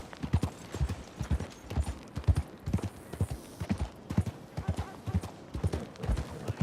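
Steady rhythmic clip-clop of horse hooves on a hard surface in Red Dead Redemption 2, continuous and fairly close, with a faint whinny partway through.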